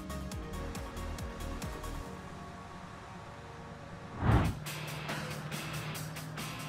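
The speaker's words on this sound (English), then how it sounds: "animation of the ETF D4 quarry dump truck racing through an off-road conditions" An ETF D4 quarry dump truck races across rough off-road ground, its heavy engine droning steadily under a layered mechanical background, with one loud thudding jolt midway.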